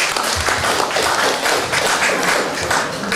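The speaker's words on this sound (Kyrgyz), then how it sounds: "Бир кол чаап коюңуздар." An audience at a Kyrgyz anniversary celebration applauding together, a loud, sustained round of clapping with an even, dense texture and no voices over it.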